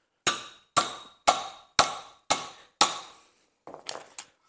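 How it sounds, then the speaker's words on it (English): A big hammer strikes a chisel to knock the hub out of a rear brake disc on a Ford Transit in a garage. Six sharp, ringing metallic blows land at an even pace, followed by a few lighter scraping knocks. "Just get it in there, nice big hammer."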